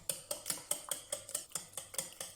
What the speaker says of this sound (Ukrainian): Перемішуємо до однорідності, відставляємо в сторону на 10 хвилин